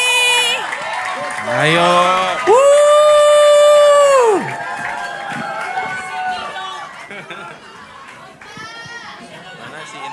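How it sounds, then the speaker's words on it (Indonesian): A youth conference crowd at a closing ceremony shouts and cheers loudly, with high sustained voices and whoops that swell, then fade into lively chatter, with one short spoken call at the start. "Kasih sorak-sorai yang lebih meriah lagi."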